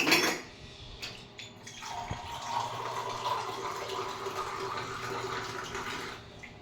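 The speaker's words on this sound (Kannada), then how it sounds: "ನೀರು ಹಾಕಬೇಕು." After a brief clatter, water runs into a mixer grinder jar holding ginger chutney ingredients, a steady close pour lasting several seconds before stopping.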